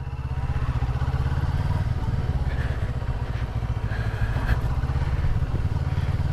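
A 2015 CFMOTO 650NK motorcycle pulls away, its engine giving a steady, loud, throbbing drone with a constant rumble that barely changes. Wind noise sits close over the engine.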